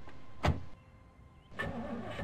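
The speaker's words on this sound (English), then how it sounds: "I wonder why this car is having such a hard time starting up." Car engine struggling to start in the Project Zomboid video game: a sharp crank burst, a pause, then another rough cranking attempt, heard alone and up close.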